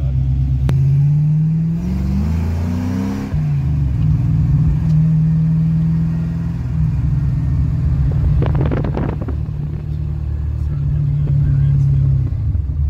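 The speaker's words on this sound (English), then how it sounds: "it's a 40 over 302 trick flow intake with GT40 iron heads. Sounds real nice." A running 302 V8 in a Ford Fox Body project car, fitted with a Trick Flow intake and GT40 iron heads, gives a loud, steady low rumble with a brief rev early on and some rattly noise later.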